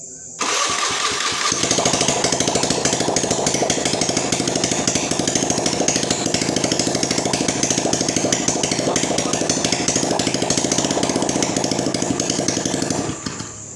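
A Honda Beat scooter engine starts and settles into a loud, steady, buzzing run at close range, holding an even rattling drone for over ten seconds before easing off at the end.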